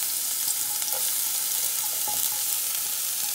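Onion, ginger and garlic fry in oil in a pan with an even, bright crackling sizzle. A few light stirring taps come through, and the sound holds steady and close with no speech.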